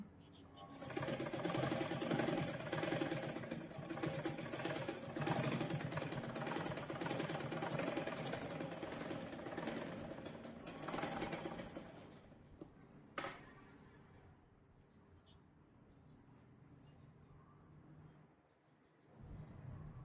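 Sewing machine running steadily as it double-stitches a tube blouse, a loud continuous whir for about twelve seconds before stopping, followed by quieter room sound with a person speaking.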